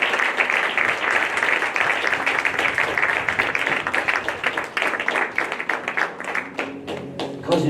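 A church congregation claps and applauds at a Sunday service, a dense, loud, sustained wash of many hands that thins into scattered individual claps toward the end.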